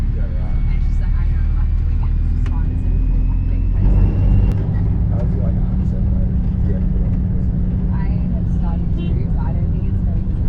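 A coach bus engine drones steadily and loudly on a hill climb between Montenegro and Bosnia, a low continuous rumble with a brief hiss partway through and passengers talking.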